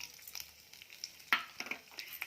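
Quiet sizzling of tempering seeds frying in hot oil for gongura pickle, with scattered small pops and crackles over a soft hiss.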